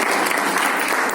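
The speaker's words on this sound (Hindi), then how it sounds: "ताली बजाइए।" Audience applause at a Patel community awakening campaign gathering in a marriage garden hall, a dense, steady burst of clapping from a crowd that holds at full strength for about a second.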